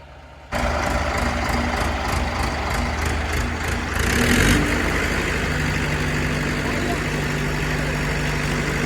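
A tractor engine idles steadily throughout, a low constant rumble with a brief louder swell midway, and faint background noise around it.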